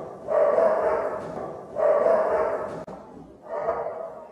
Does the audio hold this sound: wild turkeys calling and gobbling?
no